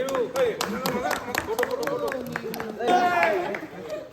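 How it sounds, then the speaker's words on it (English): Scattered hand claps from an audience at a badminton club's closing ceremony, sharp and fairly close, mixed with overlapping voices and chatter throughout. "big round of applause"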